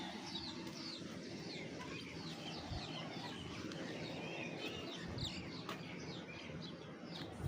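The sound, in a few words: birds chirping outside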